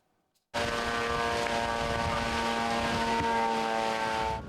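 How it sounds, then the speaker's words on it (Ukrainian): Russian long-range attack drones loitering overhead near front-line towns of the Donetsk region: a loud, steady engine drone with a strong harmonic hum that starts abruptly after a brief silence and holds unbroken, close and continuous. "Ось так цілодобово російські далекобійні БПЛА баражують та вибухають у прифронтових містах та селах Донеччини."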